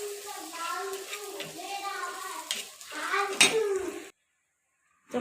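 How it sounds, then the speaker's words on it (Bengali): Potatoes and garlic fry in oil in a wok with a soft sizzle, broken by the scrape and clink of stirring against the pan, before going suddenly quiet. "এটা আমি আলুটা কড়াইয়ে ভেজে নিচ্ছি বাগারের জন্য"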